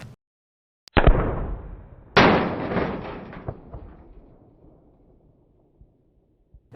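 Two sharp .22LR CCI Mini Mag rifle shots crack against a helmet about a second apart, each a sudden loud report followed by a ringing decay, with faint clicks afterward and no talking.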